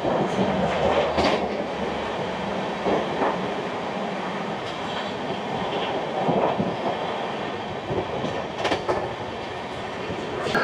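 Sealdah–Bikaner Duronto Express heard from onboard while running through Aligarh Junction, with a steady rolling rumble, rhythmic wheel clatter over rail joints and brief metallic squeals, moderately loud and continuous, with no talking.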